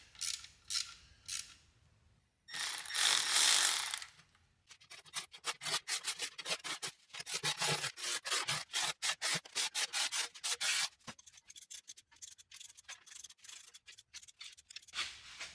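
Torque wrench tightening bolts by hand on a 1977 Pontiac Grand Safari, close rapid ratcheting clicks in repeated bursts separated by pauses, with louder scraping rubs between them; no talking.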